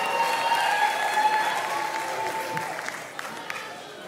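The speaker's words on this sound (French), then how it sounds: "Est-ce qu'on peut applaudir pour Ruth," Loud audience applause for a singer at a gospel talent show final, a dense clapping crowd that gradually thins toward the end, with faint tonal traces of music or voice beneath.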